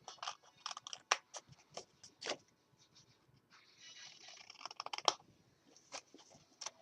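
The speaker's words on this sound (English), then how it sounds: "You're going to have these little triangles, and you're going to cut those out." Scissors snip small paper triangles out of cardstock for a handmade card, a run of short, crisp cuts in an uneven rhythm, close and fairly quiet with no talking.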